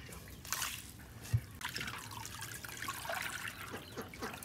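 Water trickles and drips steadily as a rabbit's drinking water is changed, a soft continuous pour with a brief sharper splash partway through, no voices.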